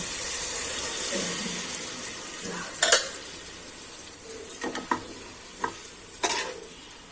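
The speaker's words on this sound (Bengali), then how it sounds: "এই জলটা এবারে ঢেলে দেব" Warm water poured into a pot of morog polao (chicken pilaf) cooking with mace and nutmeg, heard as a soft splashing hiss with a few sharp clinks and bursts of sizzle, close and moderately loud, no talking.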